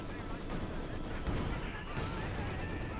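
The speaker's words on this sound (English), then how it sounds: "Mortar barraging again." Mortar barrage in the World War II strategy game Company of Heroes 2, a dense run of distant explosions and gunfire rumbling continuously under a commentator's voice.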